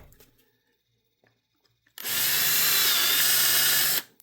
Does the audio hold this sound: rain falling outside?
no